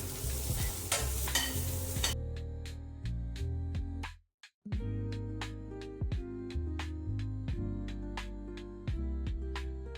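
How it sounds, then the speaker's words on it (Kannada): Paneer masala gravy sizzles and fries in a pan as a spoon stirs it in repeated sharp scraping strokes, close and steady, with a brief pause midway. "ಸೊ ಅದಕ್ಕೋಸ್ಕರ ಪನ್ನೀರ್ ಗ್ರೇವಿ ರೆಡಿ ಮಾಡ್ತಾ ಇದ್ದೀನಿ."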